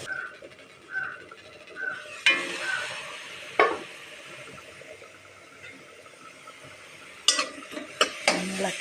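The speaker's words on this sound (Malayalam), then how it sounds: "ഇളക്കി കൊടുക്കാം" Beetroot and carrot thoran stirred in a pan with a spoon, soft scraping and a faint sizzle underneath, a few sharper clinks of utensil against the pan near the start and again toward the end.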